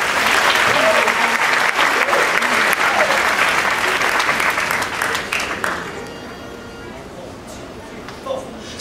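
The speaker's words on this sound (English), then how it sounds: "please give a roaring round of applause" An audience gives a loud round of applause for an a cappella group at an opening-night theater performance, steady dense clapping for about six seconds before thinning and fading into quieter crowd noise.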